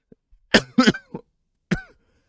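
One person gives several sharp, close coughs in a quick cluster, then a final single cough after a short pause, in a quiet room with no other sound.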